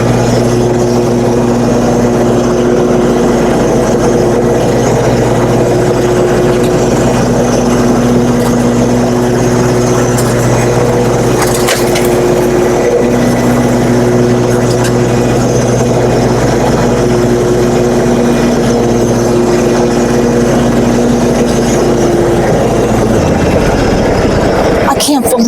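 A John Deere LA145 riding mower engine runs steadily at close range for a long stretch cutting very tall grass, a loud droning hum with a low rumble, then cuts off abruptly at the end.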